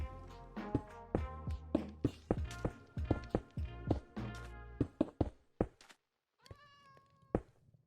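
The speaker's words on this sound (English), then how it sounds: "Alright, there is a cat." A cat in the video game Minecraft meows over and over in short, loud, closely spaced calls, mixed with sharp block-placing taps, followed by a brief pause and one more meow.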